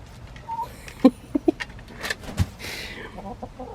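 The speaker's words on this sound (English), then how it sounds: "Silly chickens." Chickens cluck softly in a few short, separate calls, close by and fairly quiet over faint background noise.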